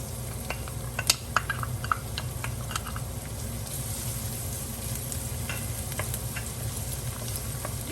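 Garlic sautés in a little cooking oil for lechon paksiw, a quiet, steady sizzle under a low hum, with a few sharp ticks and crackles near the start.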